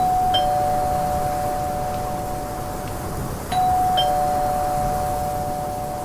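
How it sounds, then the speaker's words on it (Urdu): A doorbell rung repeatedly, giving a steady sustained electronic tone that breaks off briefly and then resumes, close and fairly loud over a quiet room. "اس نے کچھ سوچا اور آخری بار اپنی انگلی گھنٹی پر رکھ دی"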